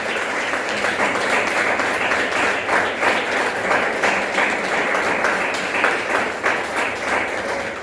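A church congregation claps loudly and continuously, a thick, sustained wash of many hands filling the room without any pause.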